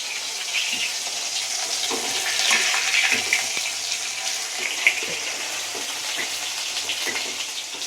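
Fish frying in a wok, a steady close hiss of hot oil sizzling throughout with faint crackles and a soft clink near the middle.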